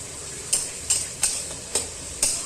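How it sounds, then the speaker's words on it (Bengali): Meat with ginger and garlic is stirred in a sizzling pan for a Bengali-style meat dish: five sharp scraping strokes at a steady rhythm over a constant close frying hiss, with no talking. "ভালো করে নাড়িয়ে নেব, আর যাতে আদা রসুনটা ভালো করে"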